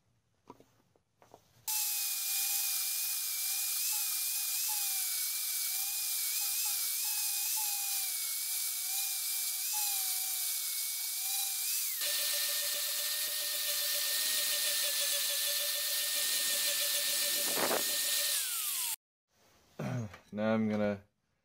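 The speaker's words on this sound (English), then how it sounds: "So here I put an 80 grit flap disc on the angle grinder. Excellent for hogging away material on wood." An angle grinder fitted with an 80 grit flap disc shapes a wooden hatchet handle, a loud sustained high whine that shifts pitch partway through as pressure changes, then stops and spins down.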